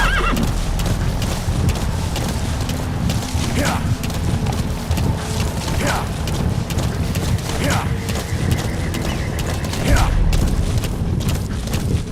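Horse whinnies and hoofbeats from the V-Horse in the video game Metal Gear Solid V: The Phantom Pain, several loud neighs over steady clip-clop and game effects, with a narrator speaking.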